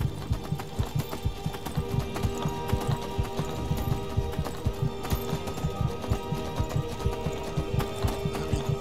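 Horse hooves clip-clopping at a steady trot in Skyrim, a dense, even rhythm of close, moderately loud hoof strikes running the whole stretch alongside a low game ambience.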